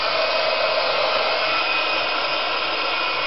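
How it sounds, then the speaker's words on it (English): A heat gun blowing over a wet paint layer on a craft project, one steady, loud, close airy roar that holds unchanged throughout with no talk. "I'm going to get the heat gun,"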